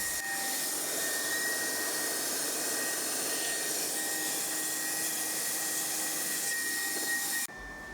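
A hot-air welder joining a corner of a PVC pool liner, a steady loud blowing roar that holds almost unchanged for several seconds before cutting down near the end.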